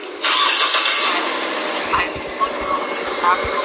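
A car engine cranks and starts, then settles into a steady running hum inside the car, with a few faint bumps and clicks and people talking nearby toward the end.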